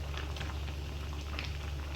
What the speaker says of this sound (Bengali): ফুটছে, বেশ সুন্দর লাগছে দেখতে।